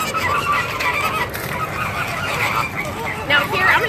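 Flamingos call in a noisy, honking chorus as they filter feed in shallow water after food is tossed in, with steady mid-range squawks throughout and louder bursts near the end.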